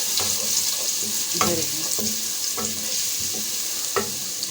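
Crushed garlic frying in leftover oil in a pan for chicken Manchurian, a continuous sizzle with several scraping stir strokes, close and fairly loud.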